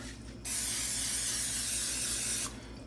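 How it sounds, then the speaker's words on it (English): A single continuous hiss of cooking spray lasting about two seconds, starting and stopping abruptly, close by. "And just put the spray on it."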